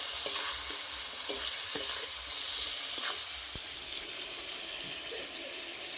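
Chopped tomato with salt and turmeric sizzles in a hot pan while a spatula stirs it. The soft scraping strokes repeat over a steady frying hiss, with no talking.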